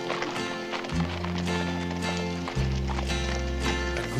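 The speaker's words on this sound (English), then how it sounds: "Oh, man, horses, horses. Don't you just love horses?" Hooves clip-clop in a quick, steady rhythm, horses trotting close by over a low droning background.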